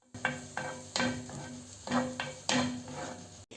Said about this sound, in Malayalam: ഇതിലേക്ക് ഇഞ്ചിയും വെളുത്തുള്ളിയും കൂടി ചതച്ചത് 2 ടീസ്പൂൺ ഇതിലേക്ക് ഇട്ട് കൊടുത്തിട്ട് അതിൻ്റെ പച്ചമണമൊക്കെ മാറുന്നത് വരെ ഒന്ന് ഇളക്കി കൊടുക്കാം.